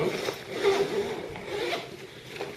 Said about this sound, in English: So it zips all along the edge